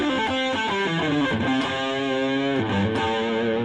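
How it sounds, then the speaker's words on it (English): Distorted electric guitar playing minor pentatonic double-stop bends, two-note phrases sliding up in pitch, with a short trill, loud and close. "Double stop bends."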